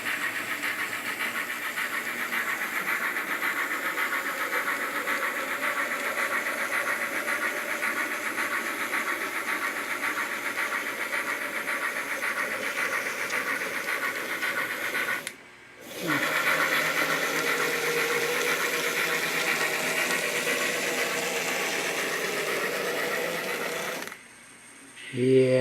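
An N scale model train engine works up a gradient under added throttle, giving a steady, close motor whir with a fine buzzing texture that breaks off briefly twice before resuming.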